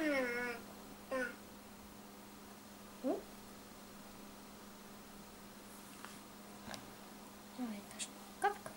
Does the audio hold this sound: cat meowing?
yes